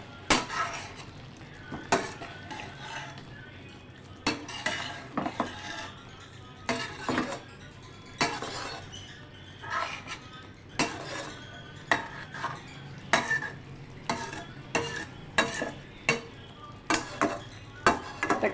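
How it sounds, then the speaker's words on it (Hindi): Spoon scraping and clinking against a pan while creamy chicken gravy is stirred and mixed, steady repeated strokes close up with faint sizzling underneath. "इसे खूब अच्छी तरह मिक्स करूँगी।"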